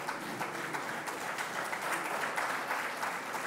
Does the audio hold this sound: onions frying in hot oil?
no